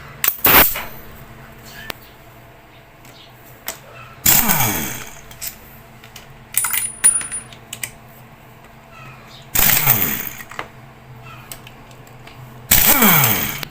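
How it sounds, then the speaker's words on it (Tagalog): An impact wrench loosens scooter bolts in several short, loud, rattling bursts separated by quieter pauses with light mechanical clinks. "Para mabuksan yan, gagamit tayo ng impact wrench para mas mabilis natin mabuksan."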